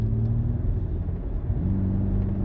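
Engine of a BMW M5 Touring plug-in hybrid heard from inside the car, a deep steady rumble with rising and settling revs, close and continuous.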